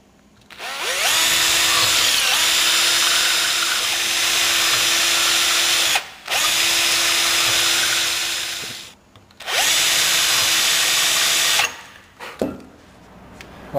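A power drill bores small holes into surfboard foam for fin plugs, running loud and close in three sustained bursts, each with a steady whine, separated by brief pauses.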